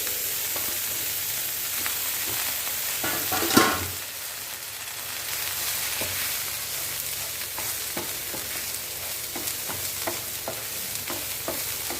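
Mint leaves sauté in a pan with a soft, continuous sizzle and scattered stirring scrapes, one louder clatter early on, heard close with no voices.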